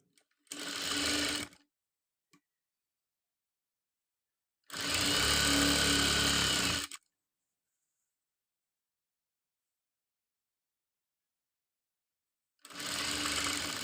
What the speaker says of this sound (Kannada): ಈ ಥರ ಇಟ್ಕೊಂಡು ಸ್ಟಿಚ್ ಮಾಡ್ಕೋಬೇಕು